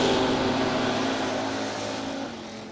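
At a drag strip, a Camaro drag racing car launches with a loud, sustained engine roar. The roar holds steady and then eases slightly as the car pulls away down the track.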